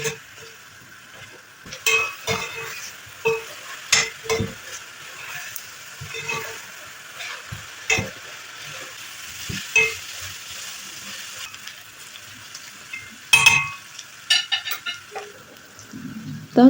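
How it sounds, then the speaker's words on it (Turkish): Chopped onions sizzle and fry in a pan for a bean dish, with intermittent scraping and stirring clatters from a utensil, close by and steady throughout. "Üzerine doğradığımız soğanlarımızı ekleyerek güzelce kavuralım."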